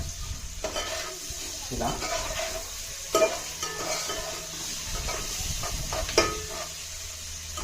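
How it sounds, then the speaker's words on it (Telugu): Boiled eggs coated in spices fry in a pan with a steady sizzle, broken by a few stirring scrapes and clinks, while a voice speaks briefly over it. "అండ్ మంచిగా ఫ్రై చేయాలి."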